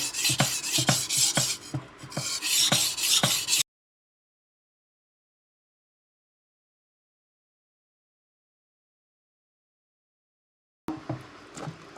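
Quick, rhythmic scraping strokes of a knife on a whetstone, about a dozen passes close up, then a long silence before the strokes start again.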